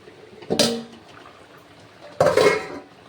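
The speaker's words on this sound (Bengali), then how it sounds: "এবার আমি ঢাকাটা উঠিয়ে নিচ্ছি" A metal lid lifted off a pot of chicken simmering on the stove, two clattering clanks a couple of seconds apart, each ringing briefly before fading into a quiet kitchen hiss.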